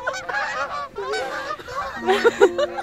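Geese honking repeatedly in a noisy, overlapping chorus that swells louder toward the end, with several close, strong honks.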